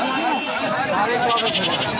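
A goat at a livestock market calls out with a bleat amid busy crowd chatter, the animal's cry rising over continuous nearby talk.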